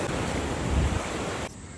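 Sea surf rolls onto a beach in Goa, a broad continuous wash mixed with wind buffeting the microphone, cutting off abruptly near the end.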